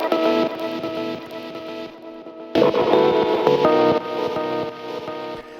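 A heavily processed beat built from chopped percussion samples, dense and glitchy, with a sudden louder, brighter section kicking in partway through, and no one talking.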